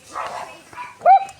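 A dog gives a couple of short barks outdoors, the last one a sharp yelp, brief and fairly close.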